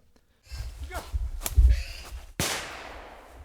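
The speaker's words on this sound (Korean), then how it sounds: "사냥개 짖는 소리와 총소리가 들리더니" Outdoors on a wooded hillside during a wild boar hunt, rustling movement is broken by two sharp shotgun blasts, the second louder and echoing as it fades away.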